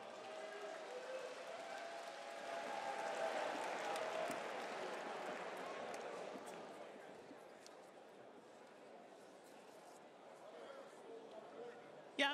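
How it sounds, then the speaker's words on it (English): Boxing crowd applause for a referee after a fight, a broad sustained clapping and cheering that swells then eases, with an announcer's voice over it. "Give him a big applause, ladies and gentlemen."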